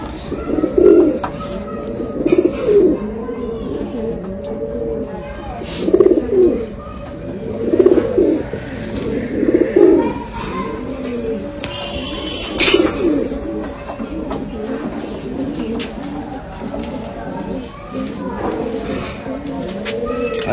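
Rampuri pigeons coo in a steady series of low, rounded calls repeating every couple of seconds, close by, with faint background noise and occasional higher chirps.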